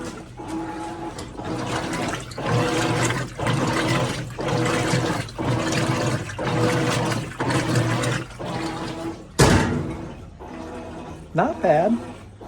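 Maytag Centennial top-load washer filling with water for its rinse cycle, a steady rushing flow broken into repeated surges, with people talking over it and a sharp knock near the end.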